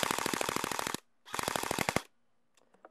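G&G GR-15 Raider-L airsoft rifle firing rapid full-auto bursts with blowback, two loud close rattling strings of shots about a second each separated by a pause, then a few faint mechanical clicks.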